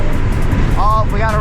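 A 1991 Mazda Miata engine pulls hard at full throttle in fifth gear, a loud steady drone with wind and road roar filling the cabin, while a voice talks over it.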